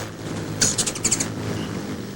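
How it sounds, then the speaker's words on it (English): Small birds, hummingbirds at a summer feeding display, give a quick run of thin, high chirps lasting under a second against quiet outdoor background noise. "What a marvelous creature is the hummingbird."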